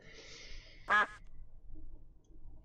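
A single loud duck quack from the video game Xiphias rings out near, brief and clear, over a low, steady background hum.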